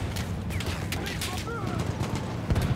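Gunfire in the first-person shooter Battlefield 1: a steady stream of shots with a few heavier booms near the end, under continuous talk throughout.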